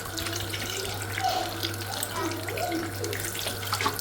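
Steady rush of tap water running into a sink while a meat broth is being cooked, a continuous near hiss with a low hum underneath and faint clinks of kitchen activity.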